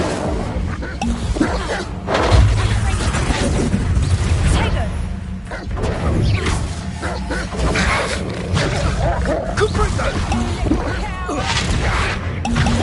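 Incendio fire spell bursts in the Hogwarts Legacy video game, loud roaring, booming blasts within constant combat noise, with a voice speaking over it.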